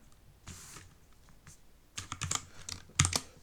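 Keys clack on a computer keyboard in short, uneven bursts, with a few isolated taps and then quicker clusters, quiet and close with no talking.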